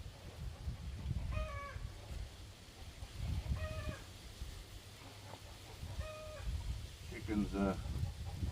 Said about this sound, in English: Chicken's probably laying an egg.